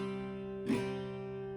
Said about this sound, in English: So I'm going to call this a C prime